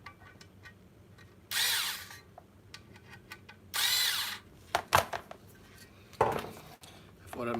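A handheld electric screwdriver of the type used for high-volume factory assembly, heard in a few short bursts of whirring with quiet gaps and small taps between them, close by.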